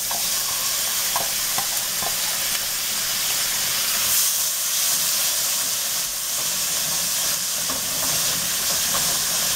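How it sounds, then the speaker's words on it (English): Onion, garlic and ginger fry in a pan with a steady, loud sizzle and hiss throughout, broken by a few soft stirring clicks; no one speaks. "Now I'm going to cook this one about 5 minutes until this is completely brown but not burnt."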